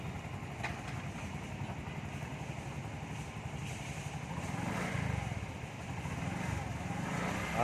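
A Bajaj RE three-wheeler with a converted clutch and gas pedal reverses, its small engine chugging steadily up close with a slight rise in effort partway through, no talking.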